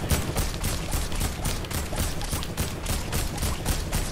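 Rapid, steady gunfire in Fortnite's horde mode, aimed at a boss, repeats at a fast even rhythm as loud, close, continuous bursts with almost no talking over it.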